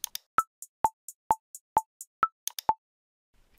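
A hi-hat programmed in BandLab for a trap beat ticks in even eighth notes, with sharp short hits interleaved with a pitched click, crisp and dry in an otherwise silent mix.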